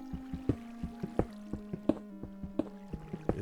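Underground water in Minecraft sounds as a rhythmic series of hollow plopping drips and gurgles, steady and fairly close, repeating roughly twice a second against a faint cave ambience.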